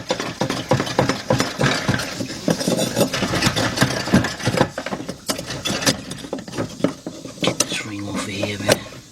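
Metal clanking and scraping as a fuel pump is wiggled out of a Chevy Tahoe fuel tank, irregular close knocks and rattles with a low engine-like hum beneath and a voice briefly near the end.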